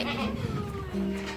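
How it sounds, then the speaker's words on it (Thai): A baby goat on a farm for imported purebred Boer breeding does gives a thin, wavering bleat, then bleats again, close and clear over soft pen background noise. "ลูกแพะนะคะ"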